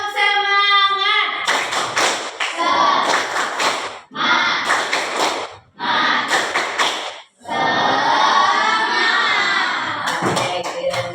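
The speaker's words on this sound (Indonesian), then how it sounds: "Tepuk semangat" A class does a spirited rhythmic clapping cheer in a classroom, with bursts of loud group claps and chanting voices in several blocks, separated by brief pauses, then a final flurry of claps.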